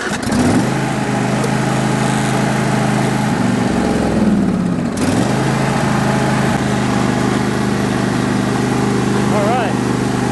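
A John Deere riding lawn mower, fitted with a new drive belt, exhaust and spark plug, starts up and runs with a steady, loud engine drone close by. A brief dip in engine note comes partway through.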